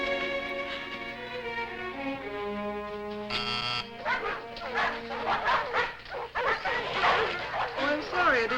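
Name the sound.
dog barking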